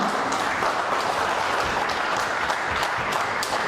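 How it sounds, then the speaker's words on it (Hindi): Steady, dense applause from a large crowd at a company annual conference award function, many hands clapping continuously without pause and no voices over it. "एक बार जोरदार तालियां एवरीवन"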